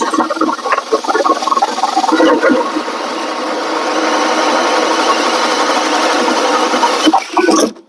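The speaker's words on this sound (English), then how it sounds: "when you're drilling, you're going to be drilling from the inside" A drill bores a hole through a wall from the inside for a mini-split line, using the bit included with the unit. The motor whines steadily for several seconds, loud and close, then stops abruptly, with brief scraping before and after.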